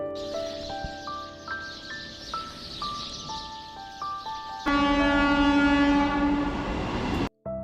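A Howrah–Bardhaman chord local train pulls into Gobra station, opening with scattered tones over a low rumble, then swelling into a loud, close, steady roar with a sustained horn blast before cutting off abruptly.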